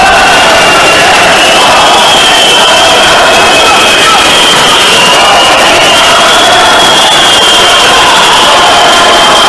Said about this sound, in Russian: Омские болельщики скандируют шайбу-шайбу